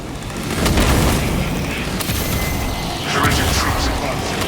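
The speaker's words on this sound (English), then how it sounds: "Using crack grenade." A crack grenade bursts in a Warhammer 40k Space Marine 2 battle, giving a loud, dense rumbling blast that swells twice amid continuous combat noise and radio-style voices.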